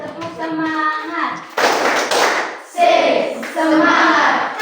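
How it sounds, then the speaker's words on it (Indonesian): A standing group performs an Indonesian ice-breaker clap, bursts of rhythmic hand clapping in sets, with a voice leading and children chanting between the clap patterns. "mari kita berdiri dulu untuk ice breaking. Tepuk semangat."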